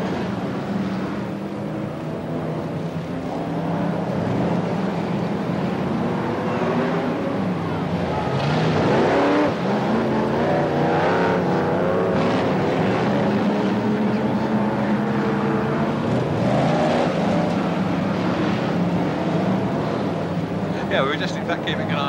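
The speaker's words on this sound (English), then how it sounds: "that number 75 car, because the lad is certainly having difficulty getting it round the turns, and John Goodall also having similar diffic" BriSCA Formula 1 stock cars roar continuously around an oval track at a 1994 Coventry meeting, engines droning and rising as they pass, with a commentator talking over the racing noise throughout.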